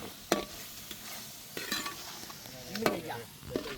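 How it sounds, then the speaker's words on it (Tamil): Curry leaves crackle in coconut oil with mutton in a pan, a faint sizzle broken by a few sharp stirring scrapes and clinks. "திருப்பியும் கருவேப்பிலை சேர்த்துக்கிறேன்"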